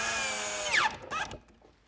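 A power drill drives a few screws into the wooden base of a bookcase, giving one close, loud whirring run that winds down, followed by a shorter burst and quiet handling.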